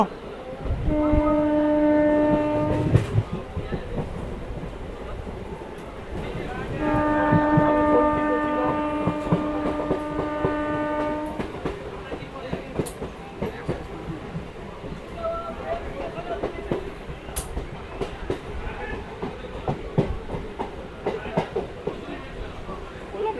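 A passenger train on the Azimganj–Murshidabad line rumbling and clattering along the rails, with two long horn blasts early on and voices faintly audible over the rolling noise.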